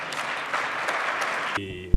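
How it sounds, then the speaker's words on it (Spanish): Audience at a blockchain conference claps for a speaker, a steady, moderately loud round of applause lasting over a second and a half before it cuts off sharply and a brief thump follows. "Fuerte aplauso para don Francisco Benítez"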